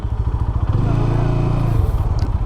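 A GPX Demon 165RR motorcycle engine runs close by, a low throbbing idle that swells into a steady rev for about a second before dropping back.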